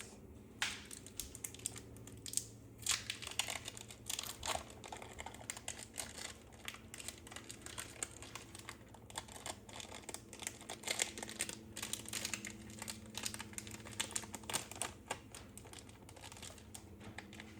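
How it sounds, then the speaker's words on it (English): Crinkly plastic wrap peeled off individually wrapped cheese slices in a home kitchen, a dense run of close, dry crackling and rustling bursts that keeps going without a pause. "And then peel it off the plastic."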